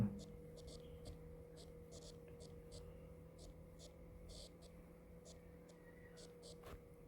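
Chinese characters being written by hand, heard as quiet, close pen strokes in short bursts at an even rhythm, set against a steady low hum and a faint whisper-like background.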